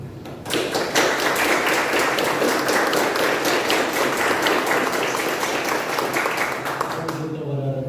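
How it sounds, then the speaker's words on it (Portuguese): A church congregation claps in celebration of a birthday during a service. Dense, loud, steady applause starts after a brief moment and runs for about seven seconds before dying away, with no voices on top. "Eu gostaria que a igreja pudesse dar uma salva de palmas de alegria"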